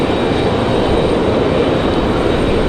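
Delta airliner arriving at Raleigh Durham International from Salt Lake City, a steady, loud broadband engine roar that holds constant throughout with no voices.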